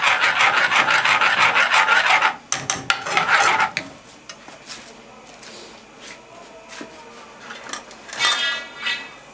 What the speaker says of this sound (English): Then you want about half a chef spoonful of almond powder and just stir that in.